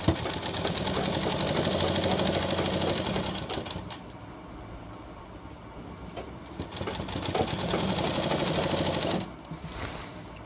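A sewing machine runs in two long bursts of steady, rapid stitching with a short pause between, single-stitching a folded shirt hem at close range.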